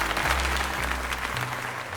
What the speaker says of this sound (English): now then, let's give another heartfelt round of applause to James